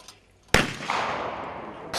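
A single sharp gunshot cracks out loud and close at a hunters' shooting competition after a quiet moment, followed by a long reverberating tail.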